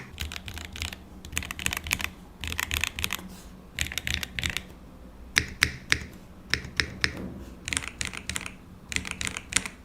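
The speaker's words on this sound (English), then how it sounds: "The tactile typing experience on this mechanical keyboard is quite satisfying. The sound is dampened, so this is not that noisy." Typing on a Kwumsy K3 dampened mechanical keyboard, with quick clusters of close, crisp key clicks in uneven bursts separated by short pauses, no talking.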